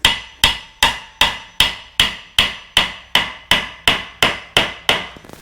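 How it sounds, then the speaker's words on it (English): Thirteen sharp hammer taps on wood land in a steady, even rhythm, each a crisp close knock with a short decay. "Is Spence getting my hammer so I can tap him?"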